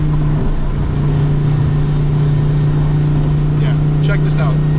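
Dodge Viper ACR with a new exhaust pulling hard in third gear at about 65 mph and 4000 rpm, a loud, steady low droning engine note heard from inside the car as a voice talks over it.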